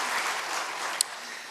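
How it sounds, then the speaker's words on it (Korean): Congregation applauding at a Sunday church service, welcoming a family: steady broadband clapping from many hands, fairly quiet and continuous, with one brief sharper click near the end. "다시 한번 박수로 환영하겠습니다"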